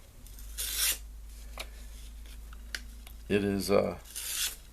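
A Sting survival knife from the 1970s–80s, never sharpened and hardly used, makes a few short rasping slicing strokes close by, and a voice briefly speaks between them.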